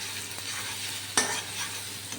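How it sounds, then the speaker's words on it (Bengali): Onions fry in a small amount of oil with garlic, a steady moderate sizzle broken by one sharp utensil clink partway through and occasional light stirring sounds; no voices. "এবার পেঁয়াজটা সুন্দর ভাজা হয়ে যাচ্ছে, রসুনের গন্ধ বেরিয়ে গেছে।"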